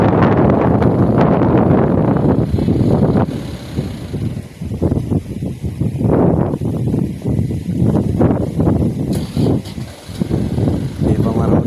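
Wind blows outdoors in a shady rural spot, rumbling steadily against the microphone and easing off at moments, while people chat in the background.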